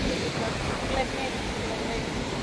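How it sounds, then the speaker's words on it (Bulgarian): Rough sea at Sinemorets beach on the Bulgarian coast, a steady wash of surf mixed with wind noise on the microphone, continuous and fairly loud with no clear breaks. "Погледнете тези вълни. Бурни и буйни."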